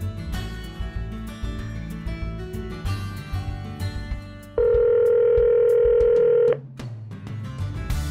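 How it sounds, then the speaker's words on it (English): Outgoing call tone through an Android Auto car system after a voice command, with a steady loud ringback tone of about two seconds over music and cabin noise, then a quieter continuation. "Okay, calling mom at home."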